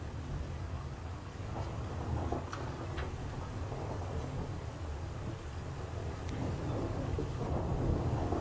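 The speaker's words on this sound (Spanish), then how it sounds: "No puede ser, está empezando a llover. ¡Cúbranse todos! ¡Va a venir una tormenta!" A thunderstorm sound effect played during a school cultural night stage play: steady heavy rain hiss throughout with low rumbling thunder and a few sharp cracks, fairly loud and continuous.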